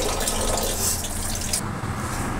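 A pan rinsed under a running tap, a loud, close, continuous rush of water with splashing against metal, briefly shifting in tone as the flow hits the pan differently.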